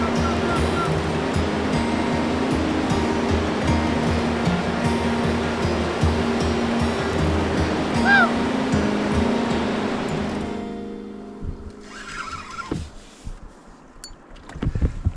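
Big, rough river rapids in a remote Canadian wilderness, a loud, steady rush of churning water filling the first ten seconds before dropping away to quieter lapping and a few scattered knocks near the end.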